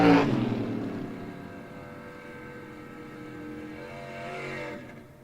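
A 1958 Corvette drag racing car with a 508 dial pulls away hard in a race at a Kentucky strip, a loud engine roar that starts close and strong, then holds a steady fading drone before a brief swell near the end.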